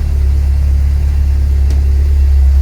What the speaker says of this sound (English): getting the car on and start it up, and then if we just chuck that into gear